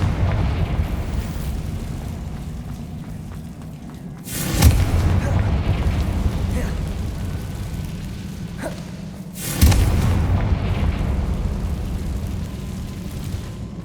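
Two booming spell explosions from the Confringo fire spell in the video game Hogwarts Legacy, one around the middle and one later, each a sharp loud burst that fades over steady game ambience.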